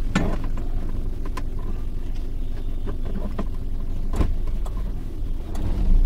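A car's engine idles and rumbles low and steady as a learner driver shifts into reverse gear, a continuous muffled drone with a few faint mechanical clicks and no talking.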